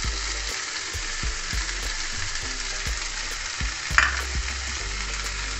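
Chopped capsicum and medium tomatoes fry with translucent onion in a pan, a steady sizzle under repeated stirring scrapes and soft taps, one sharper clink near the end, no speech.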